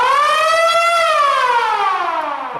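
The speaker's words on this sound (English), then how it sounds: "So there's the original police siren that went with it." The original police siren on a vintage police motorcycle wails loud and close, one long steady tone that climbs then slowly sinks, with no voices over it.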